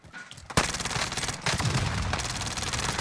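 Rapid automatic gunfire in Call of Duty Black Ops Cold War erupts after a brief quiet, a loud, dense burst of rattling shots that keeps going steadily, close and continuous.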